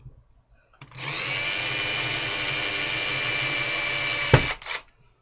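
A small power drill whines steadily at high pitch for about three and a half seconds while pushing a pin out of a straight hair pin-up, ending with a brief clack and a short spin-down, close and alone.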